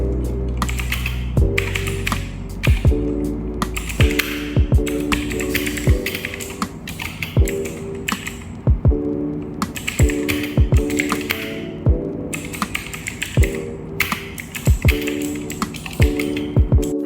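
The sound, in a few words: typing on Gamen Titan 3 mechanical keyboard with blue switches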